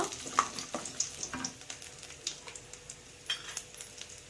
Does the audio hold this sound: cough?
no